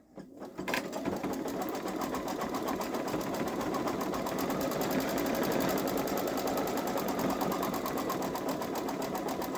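Babylock Solaris embroidery machine stitching out an Easter design, a steady, close, continuous rapid mechanical whir with fast needle rhythm running throughout without pause.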